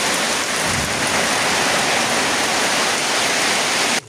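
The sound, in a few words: heavy rain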